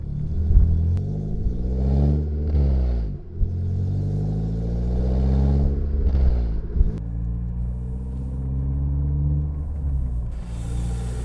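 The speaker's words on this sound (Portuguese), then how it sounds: "dá umas voltinhas para ver se a gente capta os sons do carro sem sair arregaçando" Renault Sandero RS with a cold air intake and aftermarket exhaust, driving gently in fifth gear around 50 km/h; steady engine drone with a few rising and falling rev swells, close and continuous throughout.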